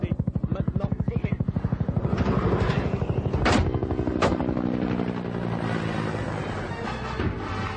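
A helicopter flies just before crashing on a mountain, its rotor chopping in a fast steady pulse that blurs into a loud roar, with a couple of sharp bangs and a voice over it.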